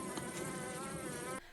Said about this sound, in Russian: В траве полно пчел.